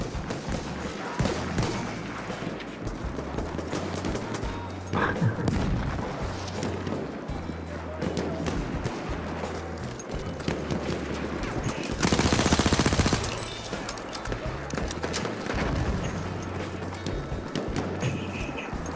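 Automatico M1918 submachine gun fire in Battlefield 1, rapid bursts crackling through a busy battlefield mix of other shots and explosions, with a loud burst around the middle.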